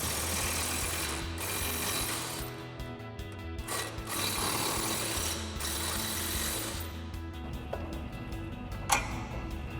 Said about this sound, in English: We're gonna take a 21 millimeter wrench and our impact and 21 millimeter socket and take that off.